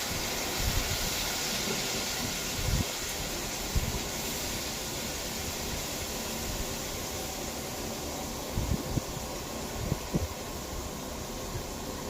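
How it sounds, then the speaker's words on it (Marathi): Tomato puree hits golden-brown onions for chicken korma, giving a steady soft sizzling hiss with faint scattered pops and knocks, fairly quiet and without voices. "आता मी ह्याच्यात टोमॅटो प्युरी टाकून घेते."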